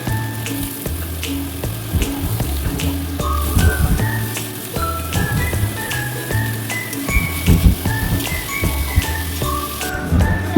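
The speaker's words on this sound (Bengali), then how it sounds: "দিয়ে এগুলো কিন্তু একটু ভালো করে ভেজে নিতে হবে।" Carrots, beans and onion fry in a pan for chowmein, giving a steady close sizzle with occasional clinks of a utensil.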